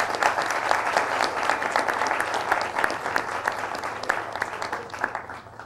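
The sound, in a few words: audience applause for the dean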